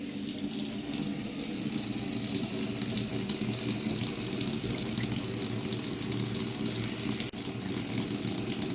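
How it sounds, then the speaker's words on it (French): A steady hot water jet runs from a tap fed by a Clage MCX4 electronic instantaneous heater, flowing at about two litres per minute, a continuous close, even rushing stream with no talk. "Voici le jet d'eau en eau chaude."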